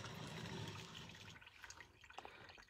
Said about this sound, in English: I'm just going to pour it.